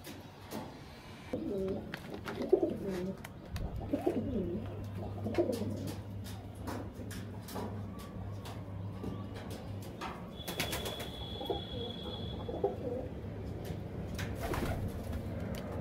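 Pet pigeons at home coo in repeated low rolling phrases, several birds near and far, with a brief burst of wing flapping, a steady low hum and a faint high tone partway through.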